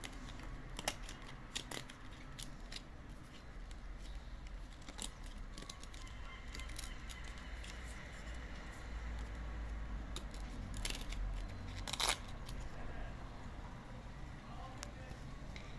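Football trading card packs being torn open close by, with a steady run of crisp crinkling, ripping and snapping wrapper sounds and a few sharper bursts over a low room background.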